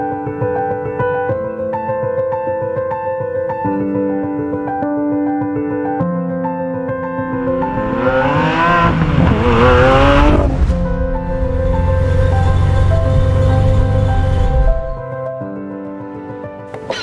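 A supercar engine accelerates in its relaxed Strada road mode, a loud, close drone that shifts up through the gears quickly. The pitch rises in steps and swells to a roar before easing back to a steady cruise.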